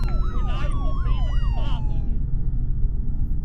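A police car siren wails in a rapid rising-and-falling yelp pattern over steady rumbling road noise, loud and close, then cuts off, leaving only the low background rumble.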